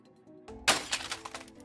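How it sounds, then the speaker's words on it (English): A sharp smash sound effect in an audio drama: glass breaks with a bright crash, and the shards rattle and clink as they scatter for about a second afterward, close and alone with no voices. "After a clear smashing sound,"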